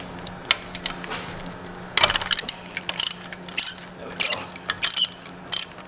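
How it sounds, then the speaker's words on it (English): A ratchet turns a 12mm bolt on a high-pressure fuel pump in an Infiniti Q50/Q60 engine bay, giving several quick bursts of close, crisp mechanical clicking separated by short pauses. "I should be able to get in there with my ratchet."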